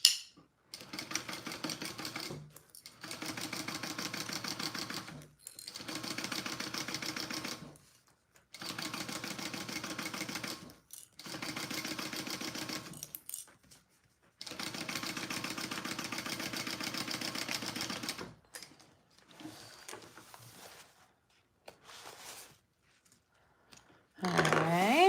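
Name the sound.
sewing machine sewing backpack pieces together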